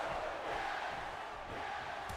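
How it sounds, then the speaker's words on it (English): A wrestling arena crowd in a WWE video game chants and roars as a steady, distant wash of noise, fairly faint and continuous with no clear individual voices. "it looks like the crowd is already chanting for Daniel Bryan."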